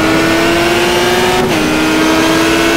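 A Viper race car engine screams at high revs in GTR2 FIA GT racing, loud and close, holding a steady whine with a brief dip as it shifts mid-way, then carrying on without any talk.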